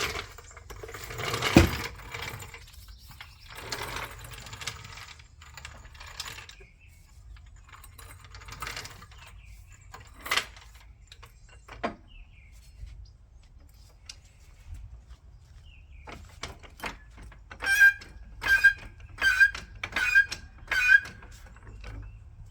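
Bolts being removed from a Honda Accord engine during head gasket work: quiet intermittent ratchet clicks, metallic taps and tool clatter, with a burst of rapid ratcheting near the end.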